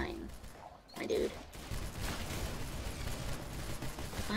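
Rapid video game gunfire from an inaccurate gun, a dense rattling burst of shots mixed with mechanical clicks under a steady wash of game noise.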